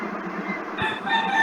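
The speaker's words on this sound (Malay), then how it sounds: "Oi, siapa ada ayam tu?" A rooster crows partway through, its harmonic call rising over a classroom's background hum and lasting to the end of the clip, with no talk.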